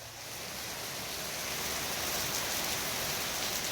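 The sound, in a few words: rain falling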